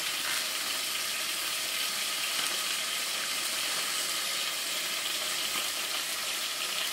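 Whole spices toasting in a hot pan for pilau give off a steady, even sizzle and hiss that holds for the full stretch without a break, close and moderately loud, with no voices over it.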